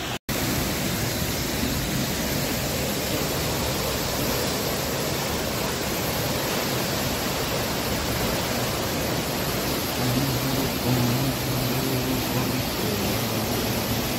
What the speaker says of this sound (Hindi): देखो मेरे पीछे कितना सुंदर झरना है, कितनी हाइट पे।